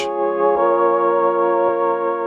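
A sustained organ-like synth chord from an organ preset, ringing steadily with a reverberant wash, held evenly for about two seconds.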